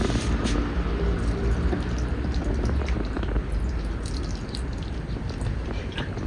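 Water poured onto a newly planted flower in a garden pot by a child, a steady splashing, trickling flow running throughout, fairly close and continuous.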